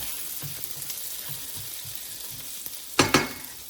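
Garlic fries in melted butter with a soft, steady sizzle, light stirring taps scattered through it, and a pair of sharper bursts of spatter near the end.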